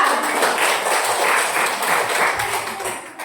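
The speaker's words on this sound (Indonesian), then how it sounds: "tepuk tangan untuk teman kita" Classmates applaud a fellow student in a classroom, a continuous close patter of clapping hands holding at an even level throughout.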